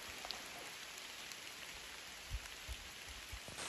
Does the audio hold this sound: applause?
no